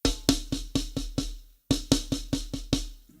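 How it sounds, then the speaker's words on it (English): A paradiddle-diddle drum rudiment played as two short bursts of sharp, evenly spaced strokes with a brief gap between them, close and clear with no talking. "We have paradiddle diddle sounds like this."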